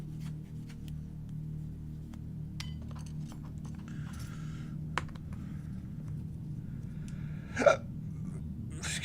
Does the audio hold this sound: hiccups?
yes